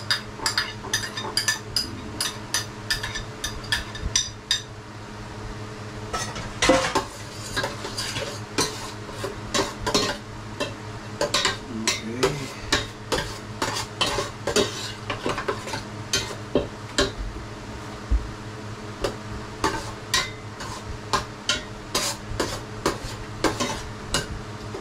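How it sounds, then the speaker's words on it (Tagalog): Garlic and onion fry in a pan, a steady sizzle running under frequent sharp scrapes and clinks of a utensil stirring against the metal, irregular and close. "Lagay na natin yung ating bawang sibuyas."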